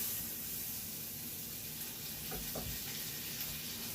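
Butter sizzling in a frying pan as it melts down for a white bacon gravy roux: a steady, even hiss that holds at moderate level for the whole stretch, with a couple of faint clinks near the end.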